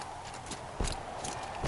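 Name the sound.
horse hooves clip-clop, from a video game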